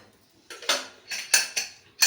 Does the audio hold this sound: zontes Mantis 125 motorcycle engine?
no